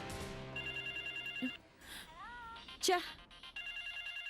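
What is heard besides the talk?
telephone ringing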